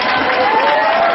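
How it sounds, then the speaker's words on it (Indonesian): A church congregation gives lively applause, a thick, continuous clatter of clapping mixed with crowd voices and a sustained tone beneath it. "Tepuk tangan yang meriah."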